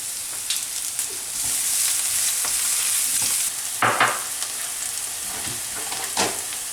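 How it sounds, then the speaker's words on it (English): Onion and garlic sautéing in hot olive oil in a pan, a steady soft sizzle with a few sharper stirring scrapes and clicks; no one speaks. "Now I'm gonna add garlic and the onion. I'm gonna saute them up."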